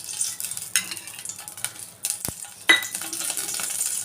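Cashew pieces fry in ghee in a pot on a stove while making ragi sangati, a steady close crackle with light metallic scrapes and a sharp clink partway through.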